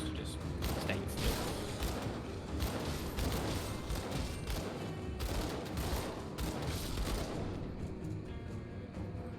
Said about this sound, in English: dual wielding those pistols is doing a lot of damage